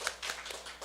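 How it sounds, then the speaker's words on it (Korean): Brief burst of hand clapping at a church worship service of a disability mission group, welcoming a member back from a long trip; quiet, scattered claps lasting under a second. "우리 오랜만에 오신 박수로 환영하겠습니다"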